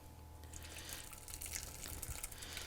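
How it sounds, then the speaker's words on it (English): Espagnole sauce poured through a colander gives a steady liquid pour and gush, close and continuous, with no talking. "we are going to strain our sauce"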